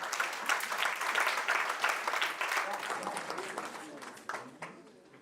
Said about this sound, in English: You have to give a big hand clap because they are fighting for our rights.